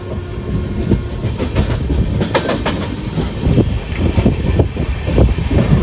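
A WDG4G diesel locomotive hauling the Nagercoil–Gandhidham Express rumbles steadily past nearby at Samakhiali junction, wheels clattering in a rhythmic clickety-clack over a heavy low engine drone, loud throughout.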